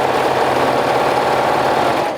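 A sewing machine stitching a folded hem runs at a steady fast whir with a dense rapid needle rhythm for the whole couple of seconds, close and loud.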